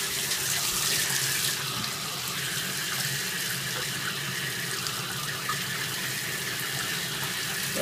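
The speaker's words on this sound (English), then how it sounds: "We're going to wash this off so we can see the full extent of the damage." Tap water runs steadily into a sink to wash off a broken vinyl mask, with a constant close splashing hiss under a stronger gush at the start and no talking.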